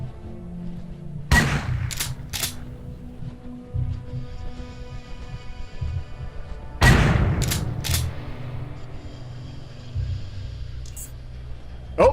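Shotgun blasts go off in the post-apocalyptic RPG UnderRail, two separate bursts of heavy, close reports, each followed by quick extra shots and a lingering ring over a low ambient backdrop.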